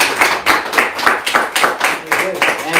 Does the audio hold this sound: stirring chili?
no